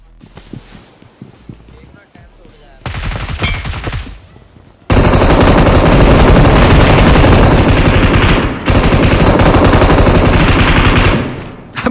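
Rapid automatic gunfire in a shooting video game, loud and sustained in long dense bursts with a brief break, after quieter scattered shots at the start.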